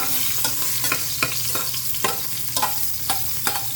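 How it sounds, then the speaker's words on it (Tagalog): Garlic or onion sautéing in oil in a pot, a continuous sizzle with regular scraping strokes of a stirring utensil roughly every half second, close and fairly loud with no speech. "So karon, guys, magisa na to sa naman ahos o bombay."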